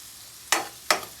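Masala paste for egg curry sizzling in a pan, two sharp bursts of frying spit as it is stirred, close and fairly loud against a quiet background.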